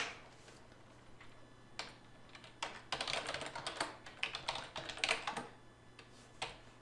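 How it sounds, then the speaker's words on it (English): Fingers tap quickly on a computer keyboard while entering data into a table, making a quiet, irregular patter of clicks with brief pauses between bursts. "I can go ahead and just click and start typing"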